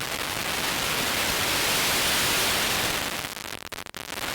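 Grain noise from the Lagrange synth gives a dense, crackly hiss like an old vinyl record, steady and loud before thinning into sparse pops and clicks near the end.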